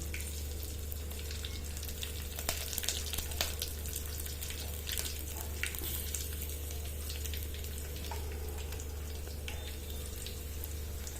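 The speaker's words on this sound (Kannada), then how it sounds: "ಇವಾಗ ಮೆಣಸಿನ್ಕಾಯಿ ಹಾಕ್ತಾಯಿದ್ದೀನಿ ನೋಡಿ." Chillies and curry leaves frying in hot oil with whole spices for a pulao, a steady close sizzle and crackle with brief sharper pops, continuous throughout with no talking.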